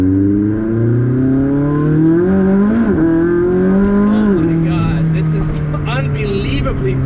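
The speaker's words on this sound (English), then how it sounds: "When you look back in the rearview mirror, you will actually see the flames shoot out" A DME-tuned McLaren 600LT with flame-spitting exhaust, its engine revving loudly and steadily up and down in pitch, heard up close with someone talking over it.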